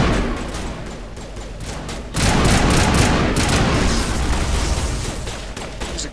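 Explosion in Mass Effect, a dense, loud blast that surges up and holds as a sustained roar of crackling debris after a rumbling, rattling lead-in.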